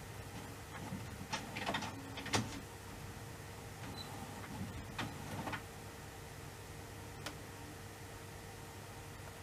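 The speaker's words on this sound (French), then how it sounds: "je vais imprimer la commande" A printer runs faintly in a quiet room, printing an order with soft ticking and clicking mechanical sounds over a low background hiss.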